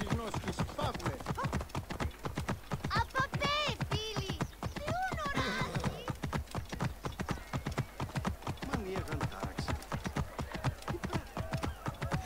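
Horse hooves in Assassin's Creed Origins clatter in a fast, steady galloping rhythm throughout, close and prominent, with a whinny and someone talking over them partway through.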